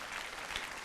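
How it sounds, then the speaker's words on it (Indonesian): Brief burst of a church congregation's dense, steady applause during a sermon service, fairly faint and continuous with no voices rising above it. "Kasih tepuk tangan untuk Tuhan Yesus."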